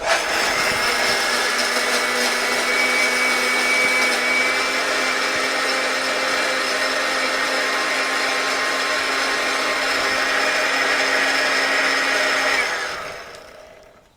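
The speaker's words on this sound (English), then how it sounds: "And then blend this until it's smooth. So this will get loud, sorry." A Waring blender runs loud and steady as it blends a drink with ice until smooth, holding one droning pitch for a long stretch before winding down and stopping.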